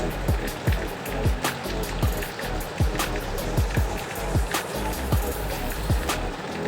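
Rice kneaded and mixed with ghee by hand gives off soft, rhythmic squishing and slapping strokes, about two per second, close and fairly loud with nothing else in the mix.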